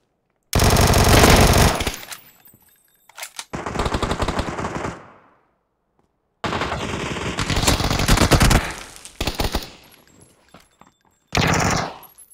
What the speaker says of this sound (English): Oh, shooting.